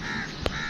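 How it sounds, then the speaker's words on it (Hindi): Crows cawing outdoors: a single sharp caw stands out midway over steady background noise. "किस वजह से आज कौवे बोल रहे हैं"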